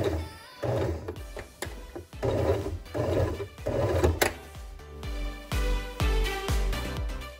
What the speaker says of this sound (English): I'm gonna start by sewing back and forth a couple times just to lock the stitch in place